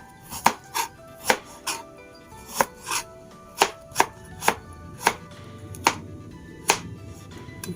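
Knife slicing fresh turmeric on a cutting board, about a dozen crisp, sharp chops spaced irregularly, close and clear with a faint kitchen hum beneath and no talking.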